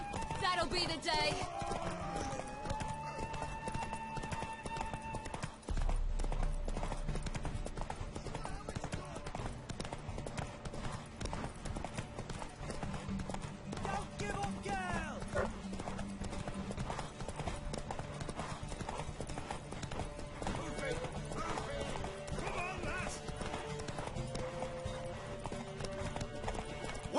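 Horse hooves clip-clop steadily throughout a Witcher 3 Wild Hunt scene, with occasional whinnies mixed in among game music and characters' voices talking over the rhythmic trotting.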